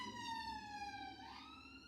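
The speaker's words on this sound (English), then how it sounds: "if those sirens keep going off," A faint emergency siren wails from outside, its pitch sliding slowly downward and then shifting partway through, heard at a distance with no talking.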